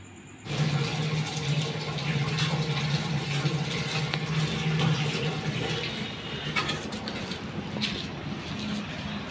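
Water gushes and rushes steadily through a drain pipe, a continuous close flow starting abruptly and holding at an even level without talk.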